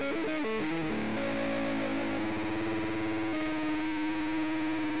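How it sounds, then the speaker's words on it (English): Electric guitar playing a Lydian lick with a distorted, effects-heavy tone: a flurry of fast notes at first, then slower held notes that sustain, loud and steady throughout, with no talking. "Okay, so enjoy your Lydian lick."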